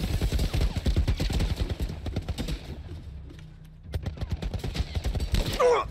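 Gunfire in The Last of Us rattles in quick, steady volleys, dropping to a lull before resuming at full strength, with voices heard briefly between shots.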